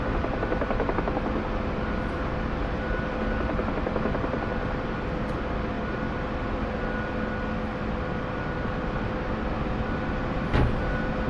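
Helicopter rotor and turbine drone from the DCS flight simulator game, a steady loud whirring hum throughout with a brief click near the end and no speech.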